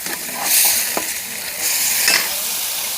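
Cooked mutton tipped into a pan of frying tomato masala and stirred, with bursts of sizzling and scraping strokes rising and falling over a steady hiss, close and moderately loud.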